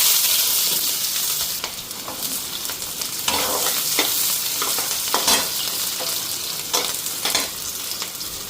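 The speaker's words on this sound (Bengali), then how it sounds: "আগে হালকা করে পেঁয়াজটা ভেজে নিই" Onions sizzle in hot oil in a wok, a steady dense crackle with louder bursts of stirring scraping through it, close and continuous with no talking.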